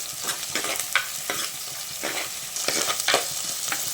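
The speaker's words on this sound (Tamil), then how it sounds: "சேர்த்து நல்லா கலந்துக்கலாம்." Onions stirred and frying in a pan while cooking a dry fish curry: a steady close sizzle broken by repeated scraping strokes of the spoon against the pan, with no talk.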